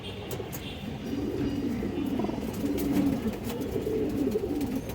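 A hen pigeon coos repeatedly in low, rolling phrases at a pigeon sale, steady and close, with no talking.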